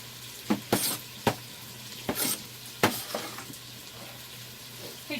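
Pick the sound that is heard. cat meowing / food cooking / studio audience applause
food cooking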